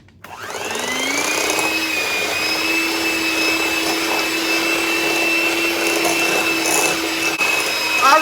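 Stand or hand mixer motor whirring steadily as egg, vanilla extract and almond extract are beaten into cookie dough, a loud continuous drone from start to finish with no talking.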